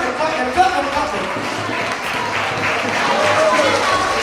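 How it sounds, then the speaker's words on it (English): An audience at a school dance competition gives a round of applause to the third-place dancers, a sustained crowd clapping under a speaking voice. "Give them a round of applause."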